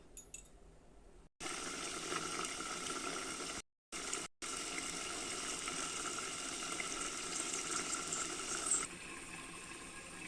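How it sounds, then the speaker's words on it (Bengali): Water pours steadily into a pan of cooking heron meat, a continuous close splashing rush with a couple of brief breaks. "এখন আমি মাংসটা সিদ্ধ করার জন্য জল দিয়ে দিব।"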